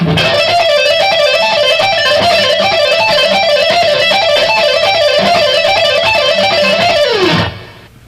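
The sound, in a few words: electric guitar pull-off pattern at tempo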